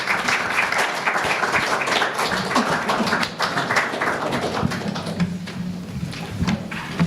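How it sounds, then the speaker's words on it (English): An audience at a panel event on Sri Lanka's presidential election applauds the three speakers, with steady, dense clapping filling the room throughout. "could we have a round of applause for the three speakers?"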